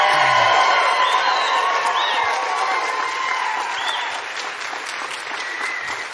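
Audience applause with scattered whoops and cheers fills a room at an Oklahoma Republican attorney general debate, loud and sustained across the whole stretch, easing slightly toward the end.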